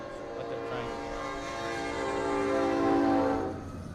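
A train horn sounds from a train passing near Church Street, a sustained blaring tone that swells louder toward the end, over low rumbling and faint rail noise, with some indistinct voices in the background.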